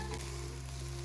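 Pressure-cooked potatoes and peas sauté in a wok for ghugni, producing a soft, even frying hiss that stays quiet and steady throughout, with no voices.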